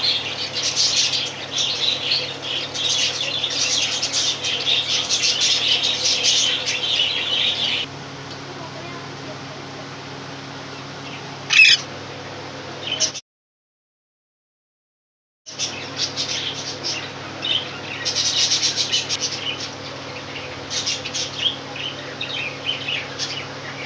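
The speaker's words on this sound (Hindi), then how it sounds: "इसके बाद मैं नहीं बोलूँगी, ये परिंदे बोलेंगे" Pet parrots keep up a stream of chirps and squawks at close range, with a brief silent gap partway through before the busy calling starts again.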